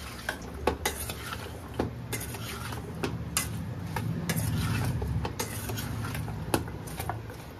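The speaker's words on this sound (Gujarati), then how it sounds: "પછી મિક્સ કરી દેવાનું." Cut raw mango pickle with turmeric and salt is mixed in a metal bowl, producing repeated clinks and scrapes of a spoon against the vessel in an irregular rhythm, close and fairly clear.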